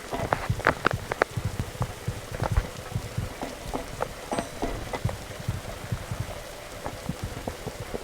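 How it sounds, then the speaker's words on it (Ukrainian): Steady acid rain in a video game patters on a surface, with scattered louder drops splashing near the microphone, continuous throughout with no voices. "нас кислотний дощ не достигне"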